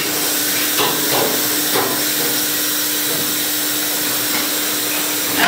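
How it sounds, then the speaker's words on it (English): A milking parlor washer pumps cleaning solution back and forth through the hoses with a steady, close, broadband hiss and rush, with a few faint knocks and a low hum underneath. "washer here is going up and down, pulling and pushing solution"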